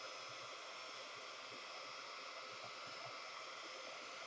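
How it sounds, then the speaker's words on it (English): A heat tool runs steadily close by, heat-setting stamped ink on a paper scene: a continuous airy hair-dryer-like blowing hiss that holds an even level throughout, with no voices. "Now I'm going to grab my heat tool, and it's not going to be too loud, I hope."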